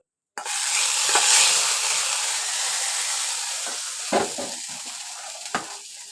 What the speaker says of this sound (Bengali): এই যে লাস্টে আমি রসুন আর হচ্ছে পাঁচফোড়ন তেলে ভেজে দিয়ে দিলাম।